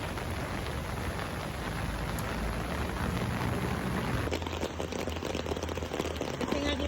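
Steady rain hisses throughout near Bell Church in Baguio City, with a slightly heavier patter of drops in the second half.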